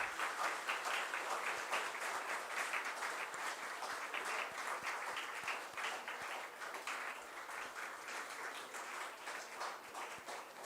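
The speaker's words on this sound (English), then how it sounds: "Ladies and gentlemen, a big round of applause for our dignitaries" An audience at an international conference on communication and computational technologies gives the dignitaries sustained applause, a dense, even wash of many hands clapping that holds steady for the whole stretch without pause.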